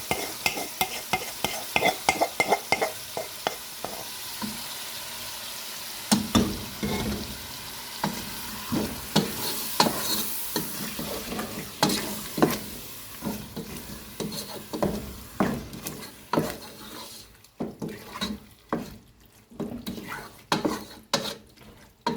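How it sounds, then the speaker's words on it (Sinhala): Marinated chicken for biryani is stirred into a hot pot, with soft sizzling under repeated scraping and clinking of a utensil against the pot, close and fairly quiet. "දැන් අපි මැරිනේට් කරපු චිකන් එක මේකට දාගන්නවා."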